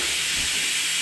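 A pressure cooker on the stove hisses steam in a continuous loud, close, even jet that runs unbroken from start to finish with no voices.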